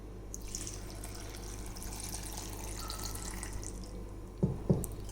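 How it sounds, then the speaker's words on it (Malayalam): Water pours into a mixer jar holding grapes and beetroot as a soft, faint splashing trickle. A couple of brief knocks follow near the end. "ഇനി കുറച്ച് വെള്ളം ഒഴിക്കാം."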